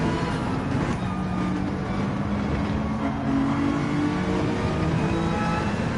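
Race cars at speed on the Spa circuit during a league race, a dense and steady engine roar that holds at a constant loud level throughout with no pause.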